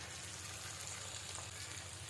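Chicken pieces frying in oil in a pan, a faint, steady hiss of sizzling with no voices over it.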